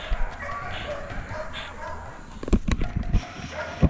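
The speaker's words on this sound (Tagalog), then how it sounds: "Isa pong Belgian Malinois." A gray sable Belgian Malinois explosive-detection sniffer dog at a training center gives a few sharp, close barks and yips in the last part, over a background of people talking and outdoor noise.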